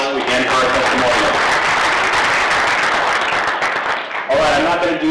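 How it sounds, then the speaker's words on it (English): A breakfast crowd at a chamber of commerce event claps, the applause swelling loud and dense, then dropping off near the end as a voice begins speaking over it. "Let's have a round of applause again for our testimonial"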